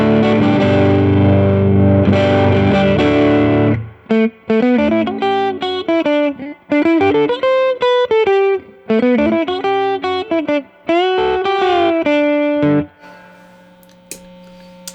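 Electric guitar riff played through an Earthquaker Devices Special Cranker overdrive pedal set to high gain: a sustained thick chord, then a choppy run of distorted notes with short gaps, loud and close, ending in a brief fade.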